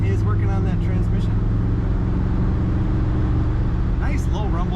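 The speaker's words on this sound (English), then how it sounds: "Nice low rumble to the exhaust." Deep, steady exhaust rumble from a 1965 Mercury Monterey convertible on the move, a continuous low drone close by, with someone talking over it at the start and end.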